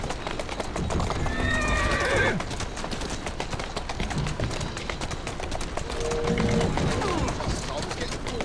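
A horse whinnying loudly twice while hooves clip-clop steadily in Assassin's Creed Syndicate, with a voice talking over the galloping.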